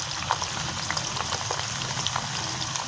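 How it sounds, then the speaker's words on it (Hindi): Onions frying in hot oil in a karahi sizzle and crackle steadily, a close, dense spitting hiss with small pops throughout. "एक कढ़ाई में ये देखें, कढ़ाई में हमने तेल डाले था, उसमें प्याज डालेंगे।"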